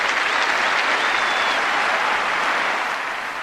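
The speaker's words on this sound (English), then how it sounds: "A tremendous hand to McEnroe, whose behaviour today was beyond reproach." A large crowd applauds McEnroe at the Wimbledon tennis final, a dense and steady roar of clapping that holds strong throughout and eases only slightly at the end.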